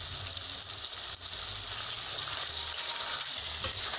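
Peas, carrots and chopped tomatoes fry in a pan for a cabbage and potato dish, making a continuous, even sizzle up close with no voices.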